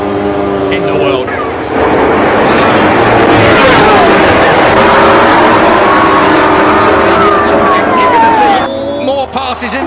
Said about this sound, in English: Brilliant motorcycle racing.